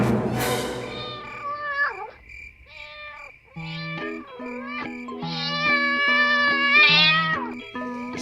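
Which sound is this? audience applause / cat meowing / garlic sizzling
cat meowing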